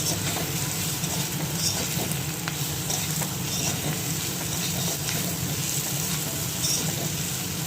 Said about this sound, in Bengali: ভালো করে মশলাটা একটু কষিয়ে নিন